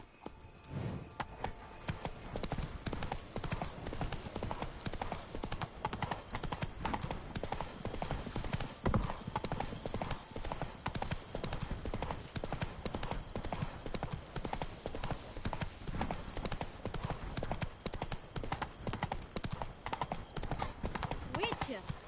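Roach the horse galloping in The Witcher 3, a fast, continuous rhythm of hoofbeats close by that runs the whole time, with voices talking over it.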